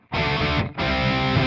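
A distorted Les Paul electric guitar through a Mesa Dual Rectifier amp simulator on a GP-5 rings out loud and sustained, briefly cut off then struck again, with a dry, saturated tone without reverb.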